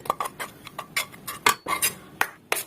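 Roasted gram dal and cashews stirred together in a metal pan give a steady run of sharp clinks and scrapes from the spoon against the pan, close and crisp, with no talking.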